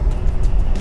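A 2009 Ferrari 599 GTB Fiorano engine roars loud and close in a brief, steady burst of deep revving, with no other sounds over it.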